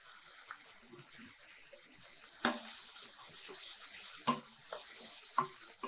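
Onion, tomato and peas fry in a pan with a soft, steady sizzle, broken by a few faint clinks.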